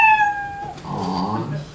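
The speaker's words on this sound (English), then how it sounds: "You know your stage time is up, your 60 seconds, when you hear the sound of a kitty." A short cat meow sound effect at a live comedy show, one clear high drawn-out mew followed by a second lower, rougher meow, loud and close with no talk over it.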